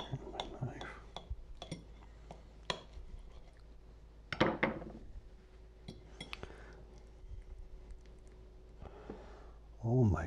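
Fork and knife clink and scrape against a plate while cutting into eggplant lasagna, a few sharp taps scattered over about ten seconds with a louder clatter near the middle, close by, with faint background speech.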